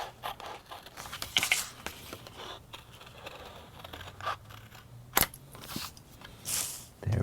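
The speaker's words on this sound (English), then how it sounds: "You cut either right on the line, just inside of the line, just outside of the line to make it a little bit bigger" A paper sandal pattern is cut out along its traced line, producing quiet, irregular snips, scrapes and paper rustles with a few sharper clicks and no talking.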